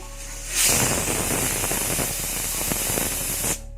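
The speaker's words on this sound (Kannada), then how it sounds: "ನೋಡಿ, ಪಲಾವ್ದು ವಿಜಿಲ್ ಬಂತು." A pressure cooker whistles while pulao cooks, a steady loud steam hiss that bursts on after a brief quiet start, holds for about three seconds, then cuts off abruptly.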